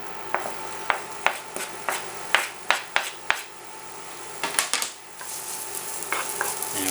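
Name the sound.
finely diced onion frying in a pan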